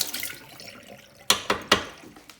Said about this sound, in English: Let's wash our spoon here.